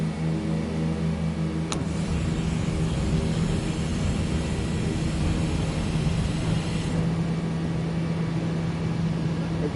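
An airplane engine drones steadily in Microsoft Flight Simulator 2024 during a go-around on final, a continuous hum with a sharp click near the start and no voices.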